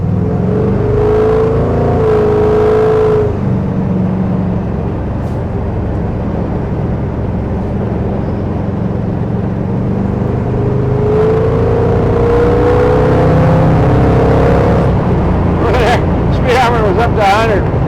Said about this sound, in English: so you can see this Chevy going down the freeway